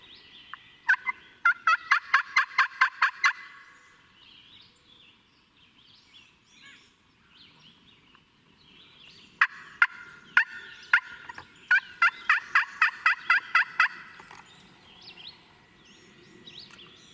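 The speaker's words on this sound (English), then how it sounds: "It's like 37 turkeys." Wild turkeys gobble around a food plot on the opening day of turkey season, two loud bursts of rapid, rattling calls, each a quick string of pulses, with a quieter gap between them outdoors.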